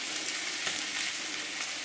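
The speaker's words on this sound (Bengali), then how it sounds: "কাঁচকলাটা একটু ভাজা ভাজা হবে" Green plantain and potato fry in a pan with a continuous close, even sizzle and crackle, steady throughout with no voices.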